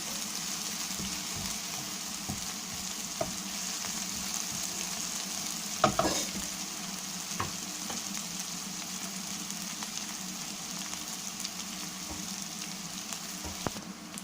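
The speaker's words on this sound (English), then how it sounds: "Just saute this well." Mushrooms sautéing in a pan for a butter masala, a steady close sizzle with occasional spoon scrapes and stirring clatter, one louder knock midway, no talking.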